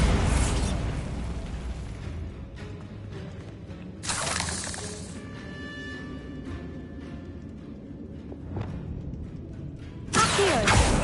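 Bombarda spell blasts in the Hogwarts Legacy video game: three loud, sharp explosive bursts with crackling debris, spaced several seconds apart over a steady rumbling game backdrop.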